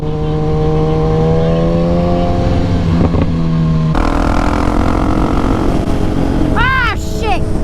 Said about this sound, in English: Oh, look at the moped! Go, moped, go!